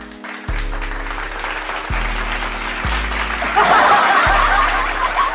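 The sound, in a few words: applause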